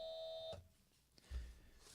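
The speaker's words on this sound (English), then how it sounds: "I'm going to have to count the buzzers today." An electronic buzzer gives a single steady beep lasting about half a second, then stops, followed by faint low background noise; quiet and close.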